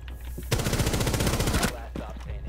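Machine gun fire in the video game Rainbow Six Siege: a single loud, rapid burst of about a second, with dense rhythmic shots up close, followed by a faint echoing tail.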